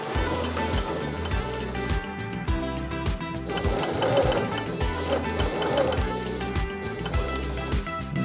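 Close and loud, a sewing machine stitches a backpack strap in a steady rapid rhythm with short pauses between runs, including back-and-forth reinforcing stitches at the strap ends.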